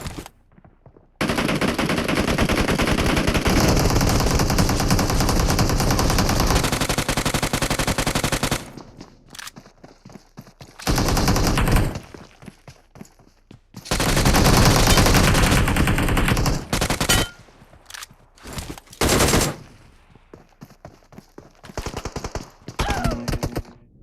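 Rapid automatic gunfire in a video game: long sustained machine-gun bursts, loud and close, then shorter volleys separated by quiet gaps.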